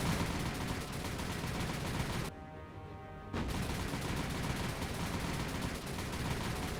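Naval gunfire in the War on the Sea video game: dense, loud, continuous volleys of cannon fire that drop out for about a second, then resume at full intensity.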